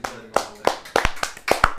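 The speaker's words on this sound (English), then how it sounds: "Now Yachty gets the claps." Clapping during a Mets vs. Padres wild card baseball game, a few sharp, distinct claps in a loose rhythm, fairly close, as if from a small group or one pair of hands rather than a full stadium.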